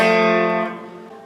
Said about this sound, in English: then there's this little riff on the F.